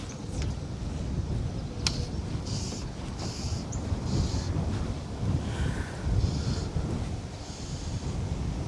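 Steady breeze buffeting the microphone beside a river while fly fishing, a continuous low rumbling wind roar with faint broadband hiss and soft gusty swells, close and fairly loud, with no talk.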